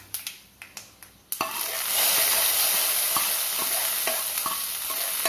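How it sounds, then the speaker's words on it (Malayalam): A few sharp clinks from a pan are followed by a sudden loud sizzle as popped mustard seed tempering hits the vanpayar and koorka curry, with the hiss rising and holding steady under occasional spoon taps. "കടുക് പൊട്ടിച്ചത് ഇതിലേക്ക് ഇട്ട് കൊടുക്കാം"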